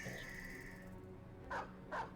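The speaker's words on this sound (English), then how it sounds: "the dog will get it when it tries to flee" A dog barks twice in the Battle Brothers video game, short yelps spaced about half a second apart over a steady background of game ambience and low tones.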